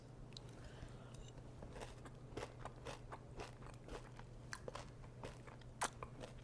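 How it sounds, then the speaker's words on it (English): Close crisp crunching bites and chewing of a crunchy black chickpea and buckwheat salad with avocado, a steady series of sharp crackles over a low steady hum. "I'm just gonna bite into this and see how it came out."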